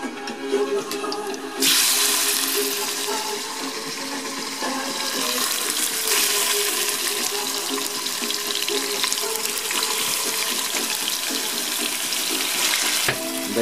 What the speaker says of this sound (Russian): Даем ей немного обжариться